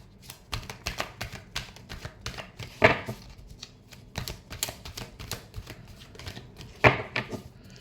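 Tarot cards shuffled by hand, heard as rapid papery riffles and slaps in uneven bursts, close and fairly loud, with two sharper snaps and no talking.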